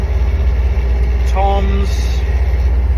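Land Rover Defender with a BMW M57 diesel engine conversion and 6HP28 gearbox, a steady low engine drone while driving, with a short tonal whine partway through.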